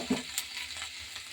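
Tomatoes going into onions frying in a pan, a faint, short burst of soft sizzle with light stirring noises.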